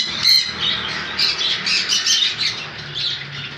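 Pineapple conure parrots in a bird shop give loud, harsh squawks, repeating in quick overlapping bursts close by with no talking.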